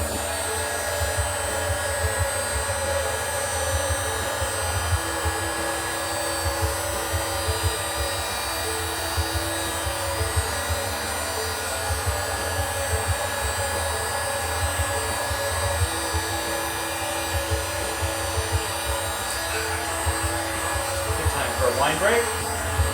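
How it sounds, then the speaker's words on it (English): A heat gun blows steadily while drying colored paint on burned Lichtenberg wood art, a constant broadband whir that continues throughout, with faint speech underneath. "gonna dry this up here in just a second with the heat gun"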